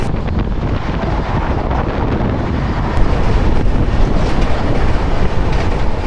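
Coromandel Express from Kolkata to Chennai racing through a station at about 131 km/h, a loud continuous roar of wheels and rushing wind close to the microphone with faint clickety-clack, growing louder midway.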